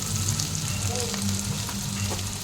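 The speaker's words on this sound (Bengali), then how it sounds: "এক এক করে মশলাগুলো দিয়ে দেবো। জিরের গুঁড়ো, ধনের গুঁড়ো, হলুদ, স্বাদ মতো লবণ" Ground cumin, coriander and turmeric fry in a pan, giving a loud, steady sizzle close up, with faint stirring scrapes and no voices.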